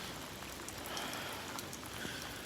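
Lake effect rain falling under cold air aloft, a steady soft hiss of drops with faint scattered patters, continuous and even throughout.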